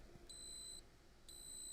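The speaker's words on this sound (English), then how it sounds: "you may be able to hear a beeping sound." A power supply running an MSI GeForce RTX 5090 Lightning graphics card emits two faint, high electronic warning beeps about a second apart, each lasting around half a second over a low background hum.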